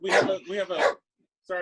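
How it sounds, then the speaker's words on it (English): A dog barks somewhere in a room during a painting session, though the sound is largely mixed with a person speaking over it in short bursts. "that's my dog in the background"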